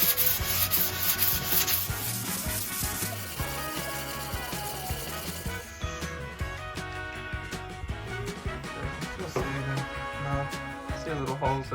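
Sandpaper rubbing back dried filler putty over nail and screw holes in pine boards during a bus build, a steady close scraping rasp with continuous back-and-forth strokes throughout.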